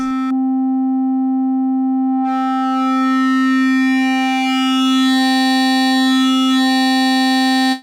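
A Yamaha Montage M synthesizer's AN-X virtual analog engine holds one steady, loud, buzzy note with soft wave folding; about two seconds in, the tone turns brighter and richer, and it sustains alone to the end.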